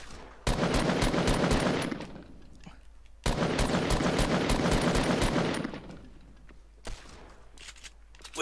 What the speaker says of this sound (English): Oh wow, those shots didn't hit.